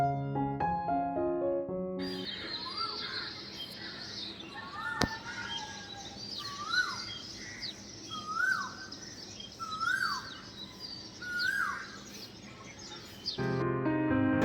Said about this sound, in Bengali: প্রতিদিন সকালবেলায় না ঘুম থেকে উঠে একটা মিষ্টি পাখির ডাক শুনতে পাই।